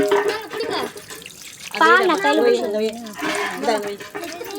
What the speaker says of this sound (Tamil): தண்ணி நிறைய ஊத்துங்க.